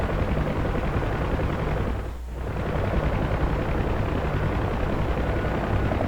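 Aircraft gunfire in the flight sim DCS World, a loud, continuous roaring rattle that runs for several seconds with one brief dip, under heavy engine and wind noise and with no talk.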